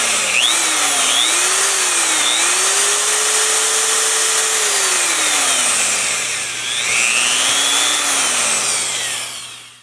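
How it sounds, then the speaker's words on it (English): A power drill bores into a balsa core while sealing a balsa-cored laminate, stopping short of the bottom layer; a loud, steady whine holds throughout, with its pitch rising and falling as the drill speeds up and slows down. "I only want to drill down to the bottom layer, not all the way through."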